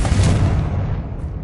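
A Confringo explosive spell bursts in Hogwarts Legacy inside a goblin mine, a loud, broad boom that rolls and fades over about a second.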